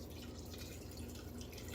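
Liquid from sautéed vegetables pours and drips into a mixture for vegan vegetable scones, a quiet, brief trickle with soft watery patter and no talking.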